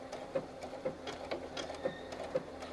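A sewing machine stitches appliqué in a steady rhythm of needle strokes, with regular soft clicks about every half second, close and moderately quiet with no talking.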